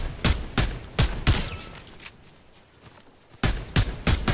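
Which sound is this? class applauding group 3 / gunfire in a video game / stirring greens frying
gunfire in a video game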